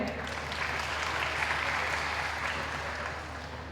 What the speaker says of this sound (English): A big round of applause for all the winners.